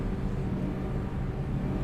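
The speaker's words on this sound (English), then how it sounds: "This is the engine." A steady, low engine-room hum aboard the Normandy starship in Mass Effect 2, a dense droning rumble that holds even and unbroken throughout, with no voices over it.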